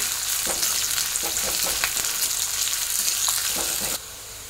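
Onion frying in hot oil for Maharashtrian shev bhaji, a dense continuous sizzle and crackle with scattered spoon scrapes, close and steady before dropping off abruptly near the end.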